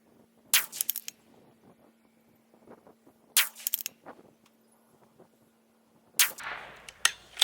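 Three loud, sharp rifle shots from a CZ 457 firing Winchester ammunition outdoors in light wind, spaced roughly three seconds apart, each a crisp crack with a short echoing tail and quiet in between.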